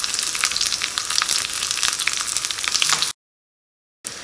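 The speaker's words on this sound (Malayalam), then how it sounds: "അപ്പോൾ ചുവന്നുള്ളിലേക്ക് നന്നായിട്ട് മുരിഞ്ഞു തുടങ്ങിയിട്ടുണ്ട്" Shallots and dried red chillies fry in hot oil with a dense, steady sizzle and crackle, close up, broken by a short silent gap before the frying resumes.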